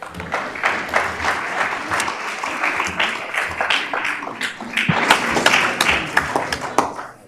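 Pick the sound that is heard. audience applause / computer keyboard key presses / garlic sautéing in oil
audience applause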